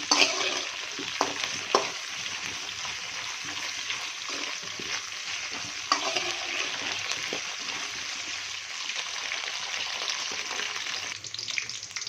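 Eggplant (brinjal) pieces frying in oil in a pan for a kuzhambu, a steady hiss of sizzling broken by a few scraping stirs, close and fairly quiet, with no voices.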